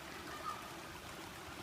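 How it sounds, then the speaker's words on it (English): Mountain water streams along steadily, a soft, even rush and trickle with no voices over it. "Water that is coming from the mountains."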